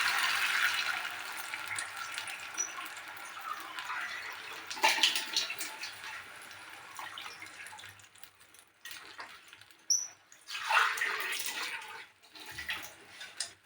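Water pours steadily into a pot of mustard fish curry, a close, splashy rush that fades and surges again in a few bursts before tapering off; no one talks.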